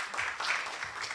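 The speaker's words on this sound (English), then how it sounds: "Sarah McKibney, give her a big round of applause." Steady applause from a crowd, a dense wash of clapping that holds at an even level throughout the short stretch.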